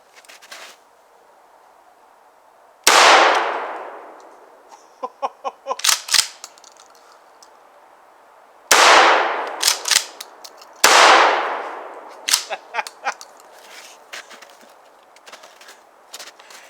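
Three loud shotgun blasts fired outdoors with a new recoil pad fitted, each a sharp crack with a long fading echo, separated by clicks and clacks of the action being worked between shots.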